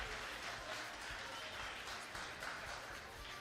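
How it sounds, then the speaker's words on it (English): A youth group crowd at a game-show style giving night applauds a contestant. The clapping is fairly faint and diffuse under low rumbling room noise, and it stays steady the whole time. "Everyone give Kane a round of applause."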